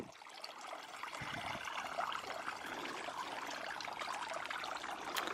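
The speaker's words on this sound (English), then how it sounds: "Water features going and all the sunshine." Continuous soft splashing and trickling from a running water feature in a sunny cottage garden, a steady moderate wash of falling water with no talk.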